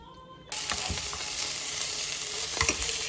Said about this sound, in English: sausages in the pan, cooking it with a little water